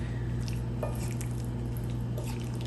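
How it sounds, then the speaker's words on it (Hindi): Marinated chicken pieces are tossed with cornflour coating, giving soft, wet squishing and sticky squelching sounds close up, continuous and fairly faint over a low background hum. "कॉर्नफ्लोर डाल के हम फिर इसमें इसको मिक्स"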